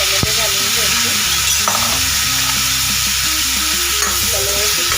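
Salted, sliced eggplant frying in a pan of oil with turmeric, a loud steady sizzle and hiss with occasional stirring scrapes and faint clinks, close up and continuous, with a voice talking faintly underneath.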